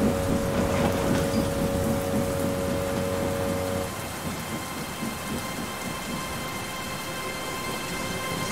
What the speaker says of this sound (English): The storm was strong and fierce.